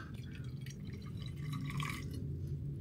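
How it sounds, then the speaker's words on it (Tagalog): Hot water is poured onto Lucky Me bulalo-flavor instant noodles as a soft, steady trickle with light dripping and splashing, close and fairly quiet. "So maglagay muna tayo ng hot water."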